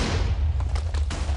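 Cannon fire in a multiplayer strategy game on the Slippery Slope map comes as a quick cluster of sharp reports over a constant low rumble, brief and moderately loud.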